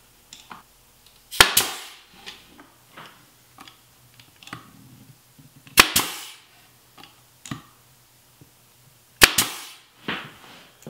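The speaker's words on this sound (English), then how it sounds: "just avoid that area when you're nailing these parts together." Parts of a wooden spline jig sled are fastened together with a nail gun, three sharp loud snapping shots spaced a few seconds apart, with quieter handling clicks and knocks between them.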